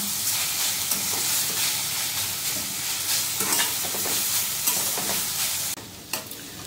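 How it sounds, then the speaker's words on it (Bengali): Drumstick leaves (sajna shak) fry dry in a pan with a steady, close crackling sizzle and occasional stirring scrapes; the sound drops off abruptly near the end. "দেখুন বন্ধুরা, আমার সজনে শাক ভাজাটা হয়ে গেছে"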